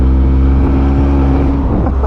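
Deep, loud exhaust drone from a 1000 hp BMW M4 F83 convertible cruising in low gear, heard close up and continuous, the rumble wavering slightly as the revs shift.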